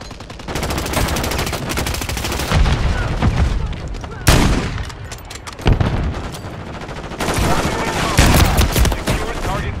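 Dense Call of Duty gunfire, with rapid automatic bursts and heavy booming shots rolling almost continuously and loud, briefly easing a couple of times, while voices talk in between.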